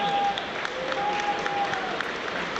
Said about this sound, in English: there's applause around the stadium for Connolly